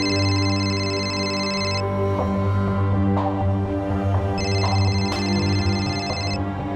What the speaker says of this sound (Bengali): এই ফোনটা কার বাজছে?